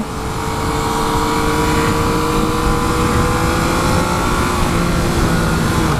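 A 2016 Yamaha FZ-09 motorcycle engine roars continuously up close, pitch climbing steadily as it accelerates, with heavy wind rush underneath.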